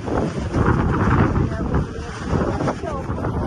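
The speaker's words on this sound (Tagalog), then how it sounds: "Slightly sunny now, but very windy." Strong wind buffets the microphone outdoors in Amsterdam, a loud continuous rumbling roar under a speaking voice.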